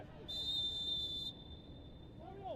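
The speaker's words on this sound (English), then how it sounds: "And we'll get a whistle." A referee's whistle sounds at a soccer match, one sustained shrill blast of about a second over faint crowd noise, with a brief second chirp at the end.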